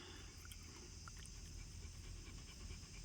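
A dog panting and whimpering close by, given mango by its owner outdoors in hot summer weather, with soft steady breathing over a constant hum and no one speaking.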